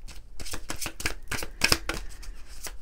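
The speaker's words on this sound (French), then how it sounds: "Allez, on va prendre quelques cartes de l'oracle des astres." Oracle cards are shuffled by hand in quick, soft riffling bursts that are close and fairly quiet, with no speech.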